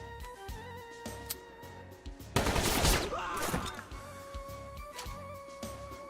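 Gunfire aimed at a Grenadier in the turn-based game Metal Slug Tactics: a loud, dense burst of rapid shots lasting over a second, rising out of steady background game music.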